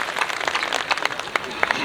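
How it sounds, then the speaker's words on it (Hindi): Brief scattered clapping from an audience at a Hindi poetry gathering as a poet is welcomed, light and uneven, with patchy claps under crowd noise. "एक बार जोरदार तालियों के साथ अजय का स्वागत करिए।"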